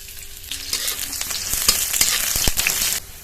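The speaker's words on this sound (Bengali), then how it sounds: "আবারও কড়ার মধ্যে সর্ষের তেল দিয়ে দেবো। পেঁয়াজ কুচি আর শুকনো লঙ্কা ভেজে নেব।" Chopped onion and dried red chilies fry in mustard oil in a kadai, giving a loud bright hiss that swells up, with scattered spatula clicks and scrapes before it suddenly drops off.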